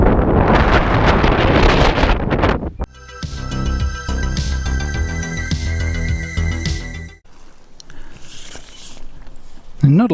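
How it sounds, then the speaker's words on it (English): Strong wind buffeting a microphone outdoors at a tent campsite on a trip from Petrudor to Canna, a loud roaring rumble that fills the first few seconds, then eases as other noise and voices take over. "not going to be able to talk because the wind's too strong"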